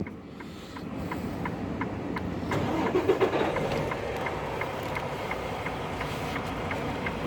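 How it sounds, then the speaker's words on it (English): A tractor-trailer truck's engine cranks and catches, then settles into a steady, rhythmic diesel idle with regular ticking pulses, close by and without talking. "We're going to turn the truck on."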